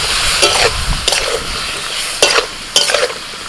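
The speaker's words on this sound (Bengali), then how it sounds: "সামান্য একটু জল দিয়ে দিচ্ছি।" Vegetables including aubergine fry in a pan with mustard paste as a little water is added, giving steady sizzling broken by repeated stirring scrapes at irregular intervals, close and fairly loud.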